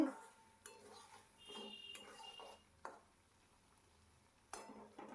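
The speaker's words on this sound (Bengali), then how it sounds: "মাঝে মাঝেই উপর নিচ করে নাড়িয়ে চাড়িয়ে দিতে হবে" Mustard-poppy spice paste frying in a pan for a pomfret curry, with intermittent scrapes and clinks of a spoon turning the paste against the metal over a faint sizzle.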